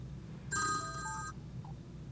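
An incoming phone call rings through the car radio of a 2004–2009 Toyota Prius fitted with a Bluetooth kit, a short electronic ring tone with a fainter follow-up chirp over a low cabin hum.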